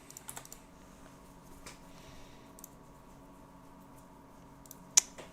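Computer mouse clicks while playing Dofus, a few quick clustered clicks near the start, scattered single clicks after, and one sharp louder click near the end, faint against a quiet room hum.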